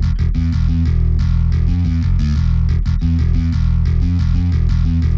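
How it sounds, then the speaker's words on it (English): A bass line under a distorted, Doom-style metal guitar riff programmed in FL Studio, loud and dense with a steady chugging rhythm of repeated palm-muted stabs throughout. "I also put in a bass line to go with it."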